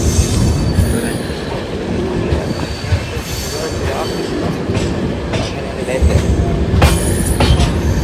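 A train at Kannur station in Kerala rumbles steadily with rolling wheel and carriage noise, brief squeals and clacks rising over a continuous, fairly loud platform din, with faint voices now and then.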